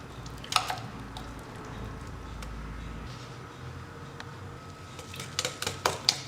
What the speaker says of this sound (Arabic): نخفق كل المكونات جيدا حتى نتحصل على خليط متجانس